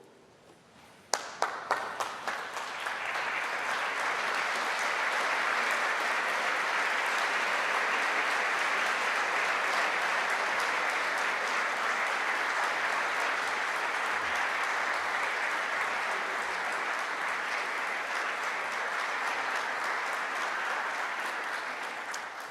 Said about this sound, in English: stand and give a round of applause for your senior officers of the University of